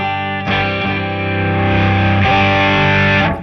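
Distorted electric guitar chords from a PRS SE Custom 24 on its humbucker pickup ring out, loud and close, sustaining with a thick, gritty tone; a second chord is struck partway through.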